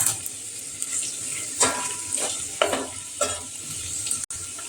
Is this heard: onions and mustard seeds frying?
yes